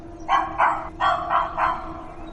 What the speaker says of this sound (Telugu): కుక్కే, దెయ్యం కాదు, కుక్కే